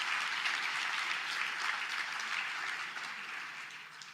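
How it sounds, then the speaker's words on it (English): An audience at a seminar gives a sustained round of applause, dense and steady clapping that fills the room throughout and eases off slightly toward the end. "you can give them one last round of applause"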